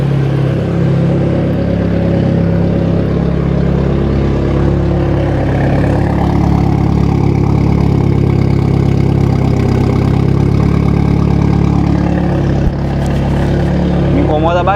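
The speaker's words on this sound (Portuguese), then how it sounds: "Me incomoda bastante esse escape direto dele." Volkswagen Golf GTI MK3 with a turbocharged engine and straight-pipe exhaust idling nearby, a steady, loud, rough low rumble that holds throughout with slight variations.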